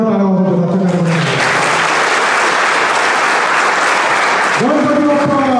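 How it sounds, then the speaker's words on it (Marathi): Loud, sustained applause from Ganesh mandal members at a police event, a thick roar of clapping between stretches of someone speaking, which is heard at the start and again near the end. "या ठिकाणी उपस्थित सर्व गणेश मंडळाला विनंती करतो की आपण स्वतः करता एकदा जोरदार टाळ्या वाजवतो"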